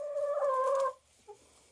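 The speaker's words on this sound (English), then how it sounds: "I found the sixth chicken." A hen clucks and gobbles loudly in a steady, drawn-out call for almost a second, then gives one short cluck, close by in a backyard flock during cold weather.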